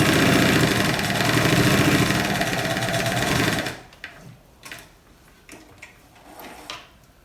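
A sewing machine runs a simple seam along a shirt pocket hem, buzzing loudly and continuously for almost four seconds before stopping, followed by a few soft clicks and handling taps.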